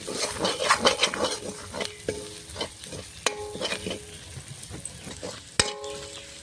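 Spices, ginger and ground cumin and coriander sizzle as they fry in a pan for mung dal cooked with a rohu fish head, with repeated stirring scrapes and several sharp metal clinks of a utensil against the pot.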